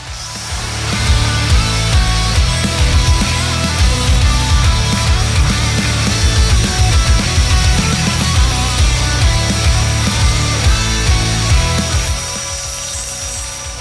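Steady, loud rasping of a kitchen knife blade being hand sanded during a knife build, continuous rhythmic strokes running for most of the stretch, close and alone without talk.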